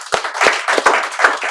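Students in a spoken English class clap for a right answer: a short burst of about five sharp, close handclaps in quick, uneven rhythm.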